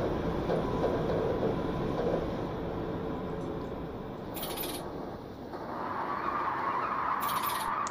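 A MAT 64 train brakes hard approaching Dukenburg station in Train Simulator Classic, a steady rumbling roll with a rising hiss and screech as the braking bites in.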